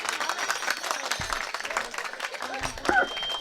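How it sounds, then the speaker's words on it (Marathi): A kirtan audience claps, a loose patter of hands mixed with crowd noise and voices, with a few sharper bursts near the end. "टाळी वाजवा, टाळी वाजवा, टाळी जोऱ्यात जोऱ्यात"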